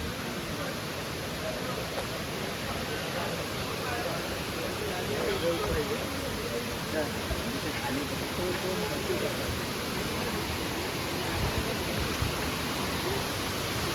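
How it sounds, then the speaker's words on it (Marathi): Savatkada waterfall at Rajapur in Konkan roars as a constant broadband rush that fills the whole stretch, with people talking faintly beneath it. "हा बघा धबधबा."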